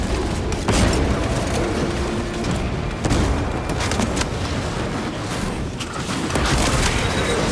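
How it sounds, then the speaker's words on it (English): Frag grenade blast in Warhammer 40k Space Marine 2, a heavy boom within a dense wall of continuous gunfire and battle noise, loud and sustained with no clear isolated detonation. "Throwing frag grenade!"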